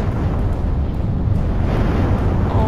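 Bomb blasts in a Roblox game, a continuous heavy, rumbling barrage of overlapping booms that stays loud and dense throughout with no gaps.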